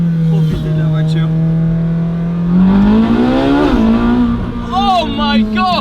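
A Bugatti Chiron Sport's 1500 hp engine revs loudly up close in Geneva, a deep sustained drone rising in pitch before easing to a steady note, with excited voices breaking in near the end.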